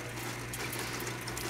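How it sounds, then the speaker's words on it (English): Water streams steadily onto a spinning lapidary grinding wheel, a continuous close splashing hiss over a low motor hum, with no voices. "All right, here comes the water."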